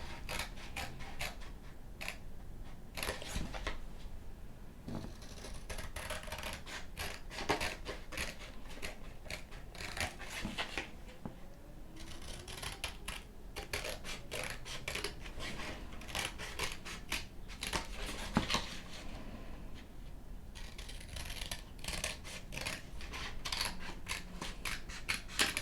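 Scissors cutting out a paper heart, a long run of close, crisp snips and paper rustle repeating irregularly throughout, with no talking.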